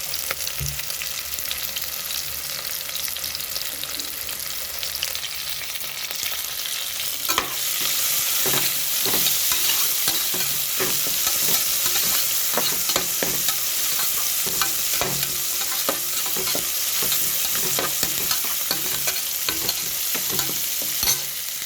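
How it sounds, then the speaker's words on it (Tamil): Onions and peeled garlic sauté with a little salt in a pan, a constant sizzle that grows brighter partway through, with frequent spatula scrapes and stirring taps over it; no talking. "வெங்காயம் தோலோடு உதிச்சு வச்ச பூண்டு போட்டுட்டு கொஞ்சமாக சால்ட், வெங்காயம் வதங்க"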